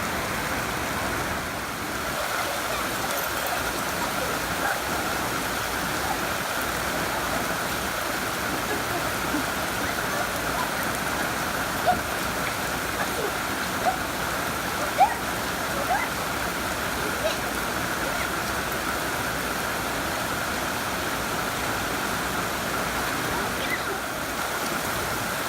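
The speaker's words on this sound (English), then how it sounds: "It is pouring down rain" Heavy rain pours down outdoors beside a running smoker as a steady, dense hiss that continues for the full length, with occasional faint ticks of drops.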